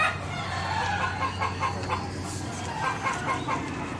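Chickens from a rooster keeper's flock cluck and crow steadily close by on a farm, with a continuous low hum running underneath and no talking.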